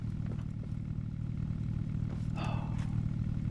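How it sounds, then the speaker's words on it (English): A steady low engine drone runs from a vehicle in the Scrap Mechanic game, holding constant throughout with a faint clatter and a brief brighter swell near the end, no speech over it. "Why do I still hear an engine?"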